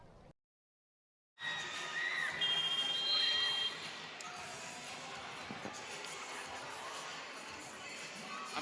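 Crowd noise in a gym during a high school volleyball invitational, a loud burst of cheering and shouting that settles into a steady murmur, with a commentator's voice audible.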